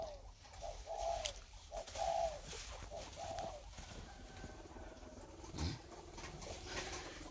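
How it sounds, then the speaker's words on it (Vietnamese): Spotted dove cooing on a rural farmstead, a short series of soft, low, rounded coos repeating in a steady rhythm near the start, then fading into faint outdoor ambience. "Đấy, các bạn nghe tiếng chim cu gáy gù chưa?"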